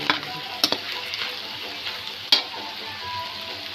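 Pork fat frying with chili in a pan: a loud, steady sizzle close by, broken by a few sharp scrapes and clinks of stirring, and no talking.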